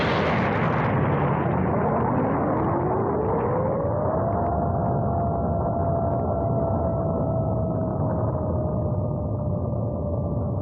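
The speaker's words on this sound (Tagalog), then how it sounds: "isang malaking pagsabog" A big explosion from Goku and Vegeta's combined attack in a Dragon Ball animation: a loud, sustained roaring blast that fills the scene, with a rising whine layered through it, fading only slightly over ten seconds.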